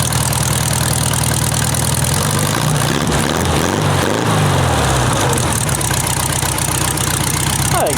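A buggy engine brought back to life after long storage idles close by, a loud, steady mechanical drone with a low rumble whose pitch wavers briefly midway before settling again.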